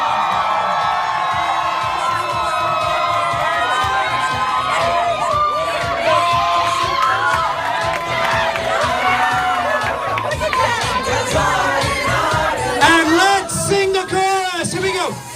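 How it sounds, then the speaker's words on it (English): A high school grad night audience at a hypnotist show cheers, whoops and chatters loudly and continuously over music, with a sharp burst of shouting near the end. "The more you cheer, the more they get into it."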